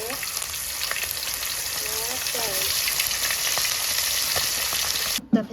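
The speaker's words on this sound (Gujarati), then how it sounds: "આવી રીતના 3 પાપલેટ આપણે તળાઈ ગઈ છે" Pomfret fish frying in hot oil, a steady loud sizzle with soft stirring and a clatter at the end.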